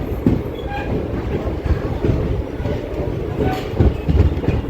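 The Mysuru–Kakinada special passenger train, number 07034, rolls along the rails with a steady loud rumble heard from on board, with faint rhythmic clatter and occasional higher squeals over the continuous roar.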